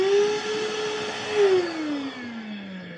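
A portable vacuum drones steadily with a whining motor tone that dips and slides lower toward the end, running alone at a moderate, close level.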